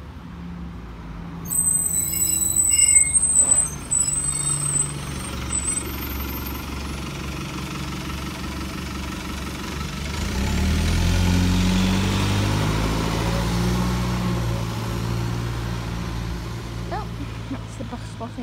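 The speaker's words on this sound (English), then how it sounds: "Bus! It's going to Crawley bus station." A bus pulls up at a roadside stop near Hartfield, bound for Crawley bus station, with a rising engine rumble as it arrives and then a steady, loud idle, while a high hiss sounds early on.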